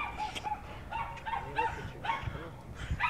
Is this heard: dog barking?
yes